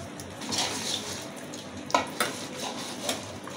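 Bone-in meat being mixed with spices in a metal pot, soft wet squelching and stirring with a few sharp clinks of bone or spoon against the pot, close and fairly quiet, no talking.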